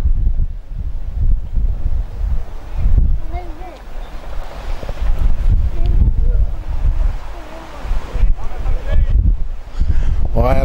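Strong wind gusts buffet a football pitch during an amateur match, roaring as a constant rumble across the microphone, while a commentator speaks over it.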